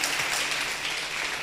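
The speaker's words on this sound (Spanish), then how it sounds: "¿Cuántos le pueden dar un fuerte aplauso a Rey de la Gloria entonces?" Applause from a seminar audience at a church leaders' event, a steady dense wash of clapping at moderate level, heard from within the room without any voice over it.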